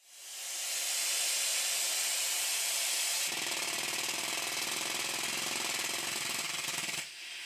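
A small model steam pump bursts into life once pressure is applied to the top of its shaft. A hissing rush swells in, then turns into a rapid, continuous chattering rattle of the operating mechanism, close and steady before easing slightly at the end.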